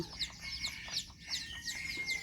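Bantam chickens on a farm in Chanthaburi cluck and chatter in short repeated calls, faint and somewhat distant, with no talk over them.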